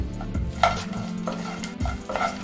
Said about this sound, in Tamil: கருவேப்பிலை நல்லா கிறிஸ்பி ஆகிற அளவுக்கு வறுத்து எடுத்துக்கோங்க